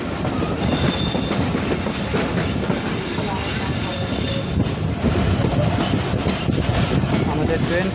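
The Barendra Express rolls into Hili railway station near the Bangladesh–India border, a loud steady rumble of wheels and carriages with clattering rail noise throughout and no clear pause.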